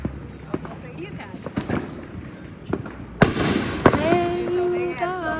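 Fireworks are lit and go off outdoors: several sharp cracks and pops spaced irregularly, followed by a louder burst and a crackling, whistling tail, with people talking nearby.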